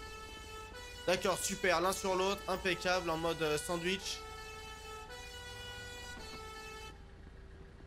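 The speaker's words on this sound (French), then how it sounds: "c'est quoi cette sirène de ton pneumatique sapeur-pompier?" A fire department boat siren in the GTA 5 video game holds a steady, sustained tone through the whole stretch, under French-speaking voices in the first half.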